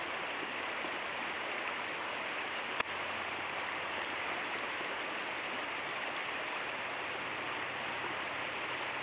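The Sliammon River near Powell River, British Columbia, rushes over its shallow bed in a steady, even hiss that stays close and constant throughout, with one brief click partway through and no voices.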